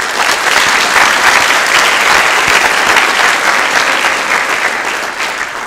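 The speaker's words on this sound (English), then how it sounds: "Please, let's give our families a round of applause." A large audience at a National Honor Society induction ceremony claps steadily and enthusiastically, a dense, sustained round of applause that holds for several seconds before easing slightly.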